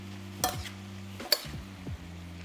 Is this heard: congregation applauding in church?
no